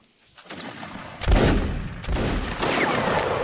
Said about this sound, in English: Fire at will on the hill.